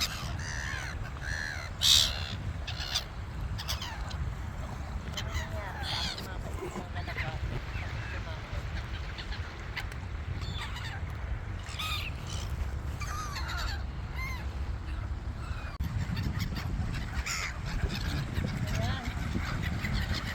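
Outdoor crowd of seagulls cawing and squawking continuously at a beach, over steady background noise and murmuring voices.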